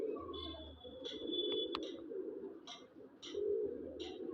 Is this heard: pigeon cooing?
yes